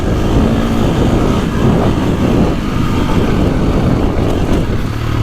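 A 2024.5 KTM 450 Factory Edition dirt bike is ridden on dry, choppy ground, its engine giving a loud, continuous, close roar with wind rush throughout.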